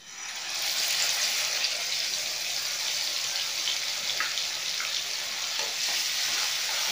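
Onion, ginger-garlic paste and whole spices hit hot oil in the same pan used for frying gulab jamun, producing a steady, close, hissing sizzle that holds for several seconds.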